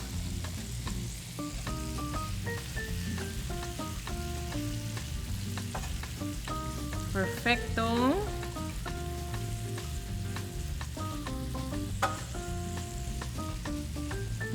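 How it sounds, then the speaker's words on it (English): Shrimp and green onions sizzle steadily in a hot pan, close and continuous, with a single word spoken briefly. "Make sure you hear that beautiful sizzle."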